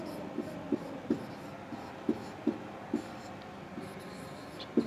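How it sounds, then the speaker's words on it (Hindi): Chalk or marker writing on a board during a Hindi alphabet lesson, a series of short sharp taps and strokes at an uneven pace, close and moderately loud over a faint room hum. "इनको हम लोग लिखेंगे"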